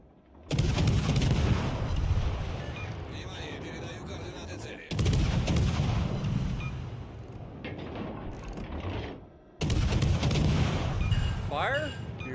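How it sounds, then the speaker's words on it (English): Heavy naval gunfire in World of Warships Legends, three loud broadside volleys of booming cannon blasts with rumbling tails, each lasting several seconds, close and dense, with faint game sounds between. "All stations, concentrate fire on that target."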